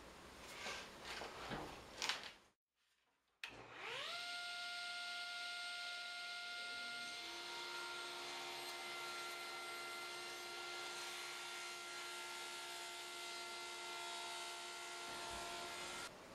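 A power saw cuts wooden boards to length for a wall-mounted audio-video cabinet, spinning up after a short pause into a loud, steady, close whine that holds for about twelve seconds before stopping.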